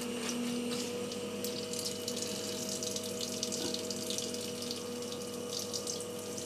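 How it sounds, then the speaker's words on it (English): Flood coolant streams steadily through the spindle of a milling machine and out of a newly drilled hole, a continuous close watery rush over a constant machine hum, with no talking. "There is a quite a strong flow of coolant coming out of the hole that we put in."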